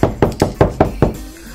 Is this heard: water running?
no